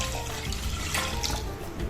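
Water poured from a jug into a Thermomix bowl as a steady, continuous splashing gush that fills the whole moment, close and fairly loud, with no talking.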